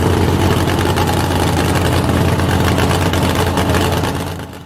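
A drag car engine runs steadily with a deep, rumbling idle and dense broadband roar, easing off slightly at the very end, at a car show.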